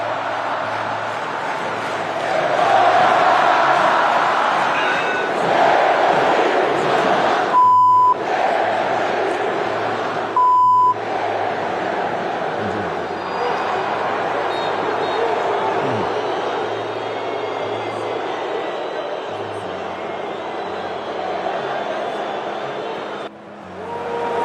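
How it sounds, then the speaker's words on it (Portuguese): Flamengo supporters booing at the Maracanã stadium, a sustained loud crowd roar of massed voices filling the whole stretch, with brief electronic beeps cutting in twice along the way. "Você tá falando da vaia? Vamos ouvir a vaia?"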